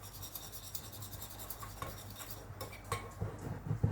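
Wormer being stirred into fish food inside a small container, quiet close scraping and tapping of a utensil in uneven strokes, faint and without speech.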